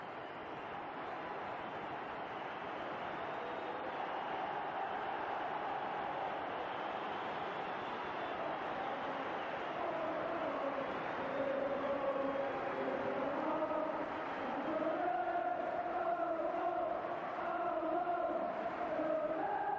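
A 60,000-strong football crowd at Celtic Park roars steadily in welcome of the Liverpool players, a dense, continuous wash of cheering and chanting that holds level for the whole stretch and swells slightly toward the end.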